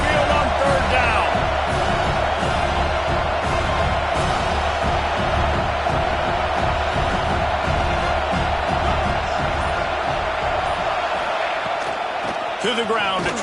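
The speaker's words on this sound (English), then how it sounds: "The tide crowd rolling noise down onto Saban Field on third down." A dense, continuous roar from a college football stadium crowd at Saban Field on third down, loud and sustained throughout, with a commentator's voice over it.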